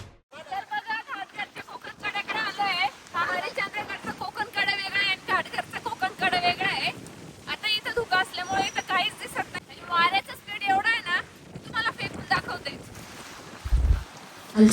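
Strong wind in dense fog buffets and roars around the microphone in gusts, with someone talking continuously over it.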